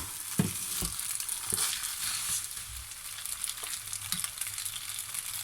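A fish carbonara mixture is stirred in a hot pan, with a steady sizzle and scraping stirs recurring every second or so, close and alone.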